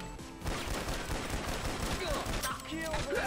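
Video game gunfire from a shooter crackles in quick, dense bursts, fairly faint and continuous over a few seconds with sharp individual shots near the end.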